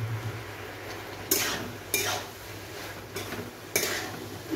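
Fried okra being stirred into potatoes in a pan, four sharp scraping strokes of a spatula against metal spaced about a second apart over a low background sizzle.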